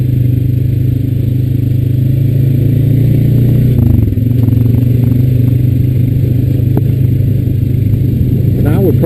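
A Honda Rancher 420AT ATV rides along a trail, its engine drone loud and steady with a brief dip in pitch near the middle and rattling clatter over the top.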